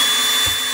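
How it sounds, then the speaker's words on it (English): A cordless drill set on its torque clutch rather than impact mode drives screws into wood while a drum studio is being built, giving a brief, steady, loud whine with no talk. "I like to have the use the drill for this set on the torque setting rather than impact driver"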